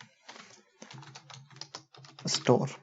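Computer keyboard keys clatter in short irregular bursts during a tile skirting quantity calculation, heard close alongside someone speaking.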